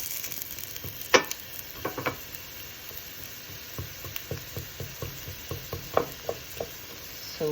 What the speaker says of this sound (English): So the onions, I'm going to saute them, but avoid getting them overcooked.